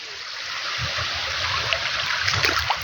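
Rainwater runoff from a field after light rain running steadily, a continuous trickling, gurgling flow close by with no voices.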